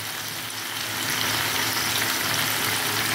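Tomato paste poured into a pan of cooking spice masala with green chili and red chili powder for tomato pickle, giving a loud, steady sizzle and hiss that swells after the first second and holds.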